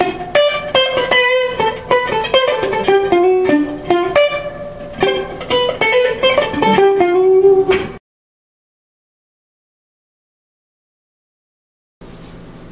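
Guitar chords strum in a quick, choppy rhythm with short, muted notes, followed by several seconds of silence and then a faint return of sound.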